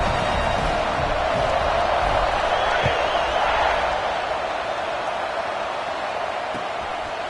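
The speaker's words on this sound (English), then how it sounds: "this crowd is buzzing after that last score" A large crowd in a football stadium at an Auburn versus LSU game keeps up a dense, steady roar of buzzing noise after a score, heard from a distance and unbroken for several seconds.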